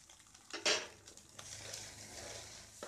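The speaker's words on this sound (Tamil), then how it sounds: "அடுத்து இந்த சிக்கனை போட்டுடலாம். இந்த காய்கறியும் போட்டுடலாம்." Chicken and vegetables tipped into a pan over fried egg while making chicken fried rice: a clattering drop and sizzle burst near the start, then steady frying hiss and faint stirring scrapes, no talking.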